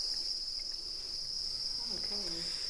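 Farmed crickets raised as edible insects give a steady, high continuous chirring trill, close and unbroken, with a faint low murmur underneath.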